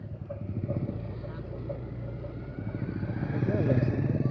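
A car and a motorcycle pass on a road around the lakes at Alahan Panjang, a steady low engine rumble building louder toward the end while people talk over it.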